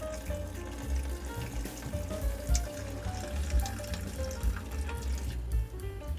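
Water rushes through a 1/4-inch ice maker line being flushed out at a shut-off valve, a continuous splashing gush with bubbly, pulsing low churning that stays fairly loud and close throughout.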